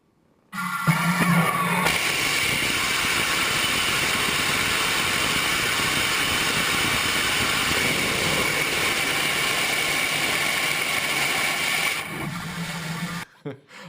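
A Masten Space Systems Katana-class rocket engine test firing, a loud, steady, broadband roar that starts abruptly and holds for about eleven seconds before cutting off, with no talking over it.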